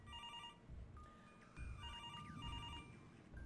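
A telephone rings inside a game's playhouse setting, its electronic bell tones repeating in short bursts over a low background rumble, faint and steady with no voices.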